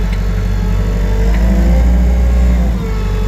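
A Wacker Neuson 901s skid steer idling in rabbit speed, heard from inside the cab: a steady, close, low engine hum with an even mechanical whir and no talk.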